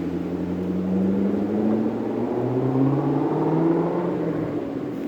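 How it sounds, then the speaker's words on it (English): A black high-performance car with black rims and blacked-out headlights accelerates along a town main street, its engine a steady loud rumble that rises and drops in pitch as it shifts gears, with no talk. "Let's see if he knows how to shift his car."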